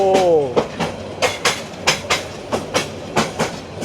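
The Paharika Express passenger train rolls along the rails with steady, rhythmic clickety-clack beats, fairly close and loud, with a brief horn-like tone at the start.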